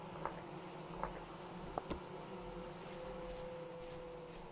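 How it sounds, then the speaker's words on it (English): Bumblebees drone in an overgrown forest in the video game Vintage Story, a faint, steady buzz with a few soft ticks and taps, no talking. "I hear the bumblebees."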